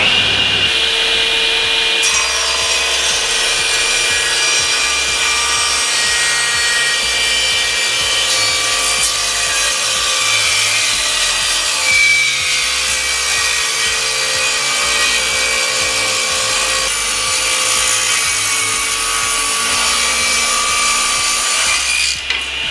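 A 10-inch SIP cast iron table saw cuts through wood with a loud, steady high-pitched whine and rasping bite that run continuously for over twenty seconds.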